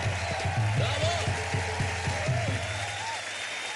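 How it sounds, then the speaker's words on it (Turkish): A studio audience breaks into sustained applause, steady and fairly loud, tapering slightly toward the end, while a voice talks over the clapping. "kocaman bir alkış alalım"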